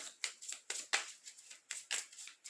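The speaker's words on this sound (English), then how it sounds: "Now it's going to give them an actual good shuffle now." A deck of Yu-Gi-Oh cards being shuffled at a tournament table, a quick run of crisp riffling bursts repeating about every half second, close and fairly quiet with no talking.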